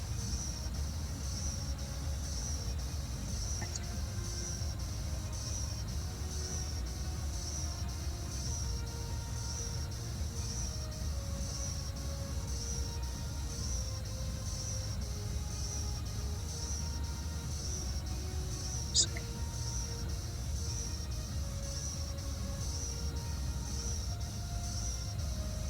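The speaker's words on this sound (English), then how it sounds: "This is such a slow train for me." A Boston Sprinter train runs in Train Sim World 2, heard as a steady, continuous low rumble with a constant high whine, one brief sharp tick in the middle and no voices.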